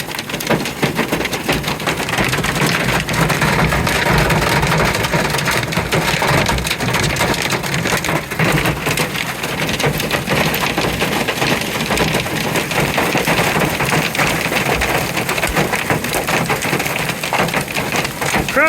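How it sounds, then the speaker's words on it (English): A hailstorm with high winds and torrential rain northwest of Tescott, Kansas: a loud, unbroken roar of rain and hail pounding surfaces, with dense rattling impacts throughout. "Incredible hailstorm."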